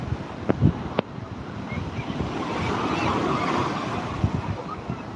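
Sea waves wash onto a beach in a broad, rolling surge, with gusty wind buffeting the microphone and a few faint voices in the background.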